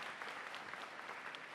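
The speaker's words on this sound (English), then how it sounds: "let's give Jerry a big round of applause" Commencement ceremony audience gives a brief, steady round of applause, dense clapping heard faintly from a distance with no pause.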